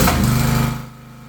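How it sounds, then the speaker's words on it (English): A 240V generator engine running loud and near with a rough, rapid mechanical hum that drops to a quieter idle partway through. "How about I turn the engine on?"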